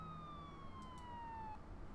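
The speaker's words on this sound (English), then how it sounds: "You hear it off in the distance, the sirens in the distance." Police sirens wail faintly in the distance, a thin, steady tone gliding slowly downward and heard alone under a low background hum.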